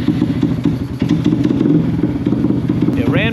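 A custom-built motorcycle engine runs rough at close range, a loud uneven chugging with sputtering pulses throughout. A short rising whine comes in near the end.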